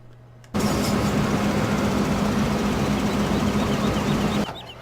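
Tractor engine in the video game Farming Simulator 15 cuts in abruptly and drones at a constant idle-like pitch for about four seconds before stopping just as suddenly.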